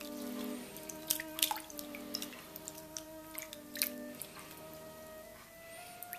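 Hands mix soaking sweet rice and mung beans in a bowl of water, giving soft, close splashes and wet squishes in irregular bursts over a faint steady background hum.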